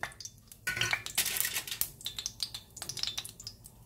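Mustard seeds heating and popping in a pan for vegetarian fried rice, a light, irregular crackle of small sharp ticks and spits, fairly close, with no talk.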